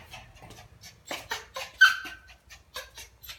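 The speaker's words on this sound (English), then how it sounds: "There's a little dog making noise" A little dog makes noise inside a house, heard as brief, faint whimpering yelps in the middle of a quiet room, with a single higher squeal standing out among soft scattered sounds.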